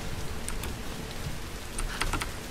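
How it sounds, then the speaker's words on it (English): Heavy rain in the action-adventure game Tomb Raider: a dense, steady hiss of downpour fills the whole stretch, with scattered small ticks and patters on top and no voices. "Oh my god, it's raining so fucking much!"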